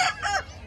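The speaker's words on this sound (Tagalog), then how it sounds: "Mga manok." A rooster crows loudly and close, with chickens clucking nearby, among gamecocks for sale at a poultry market in Bocaue.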